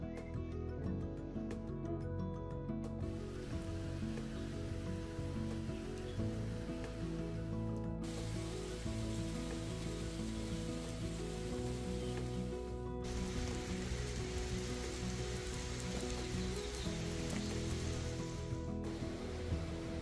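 Steady rain falls on the upper reaches of the Křemže/Krka stream area in nature, a continuous dense patter close by while people shelter under a small wooden hut, with no talk.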